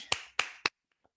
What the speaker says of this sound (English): if you could all just join me in giving a clap to our speakers